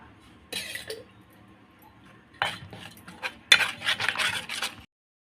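A spoon clinks and scrapes around a bowl while mixing dhokla batter of gram flour with turmeric, sugar and salt, in sparse bursts that grow busier toward the end, close and fairly quiet.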